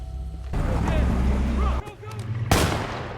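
A gunshot from a film, a sharp loud crack that cuts in abruptly at the end of a stretch of dense, rumbling scene sound with voices.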